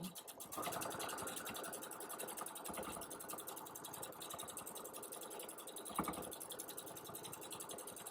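A home sewing machine quilting layered fabric runs steadily and rhythmically, pausing briefly twice before resuming its fast mechanical stitching.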